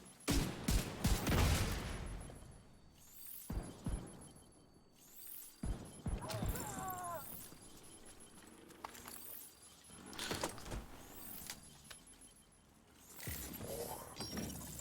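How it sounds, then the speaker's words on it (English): Weapon and grenade-launcher fire in the video game Division 2, a series of sharp bursts and metallic clanks spread across the stretch, with a mechanical whine and scattered impacts at moderate loudness. "Launching grenade!"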